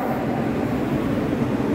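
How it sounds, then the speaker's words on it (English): The WHOOSH high-speed train on the Bandung–Jakarta line at Halle rail station gives off a steady, loud, broadband rumble and rush that fills the whole moment without a break, with no voices heard. "So this is the WHOOSH, the high speed train."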